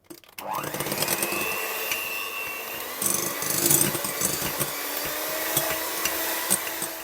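An electric mixer whirs up to speed and runs steadily at close range, its motor pitch shifting slightly as it beats meringue with starch for pavlova.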